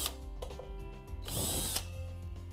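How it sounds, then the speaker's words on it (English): A power drill with a 2-inch hole saw bit cuts through the plastic lid of a hydroponic lettuce bucket, giving a steady motor whine and a harsh, louder grinding burst in the middle as the saw bites in, with no talking. "a 2-inch hole saw drill bit to drill out the holes in the lid of our bucket"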